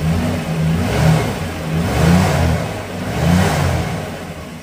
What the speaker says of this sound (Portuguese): escuta o motorzinho aqui, ó